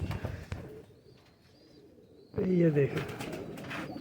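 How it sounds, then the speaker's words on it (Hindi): A pigeon coos softly in a short rumbling burst close by, with someone speaking just before. "सब वीआईपी कबूतर हैं, सब बहुत अच्छे कबूतर हैं।"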